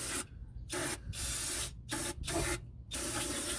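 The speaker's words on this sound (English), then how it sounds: "We're going to spray off that surface like that." Degreaser sprayed from an aerosol can onto a differential cover surface during a diff cover reseal, in four loud, close, steady hissing bursts separated by short pauses, with no talking.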